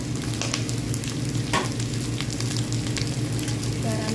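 Vegetables sizzling in oil in a pan while pancit noodles are cooked, a steady close crackle with an occasional clink of a utensil against the pan, over a constant low hum.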